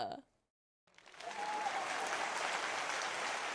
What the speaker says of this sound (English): Another round of applause ensues from the crowd